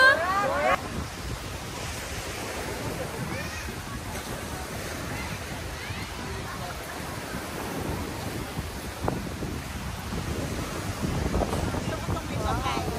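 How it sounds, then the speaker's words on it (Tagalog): Strong ocean surf at Boracay roars continuously with heavy wind buffeting the microphone, waves crashing in bursts, and a few voices faintly underneath. "Grabe, ang lakas ng alon."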